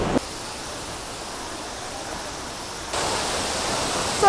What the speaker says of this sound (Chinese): 雖然咧呢個係人工放水嘅瀑布